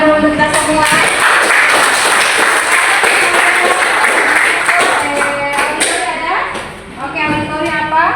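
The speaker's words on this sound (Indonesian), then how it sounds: "Luar biasa, tepuk tangan dulu untuk kita semua." Students in a classroom clap together, a loud burst of mixed claps and taps that fades briefly, while a voice speaks over the latter part.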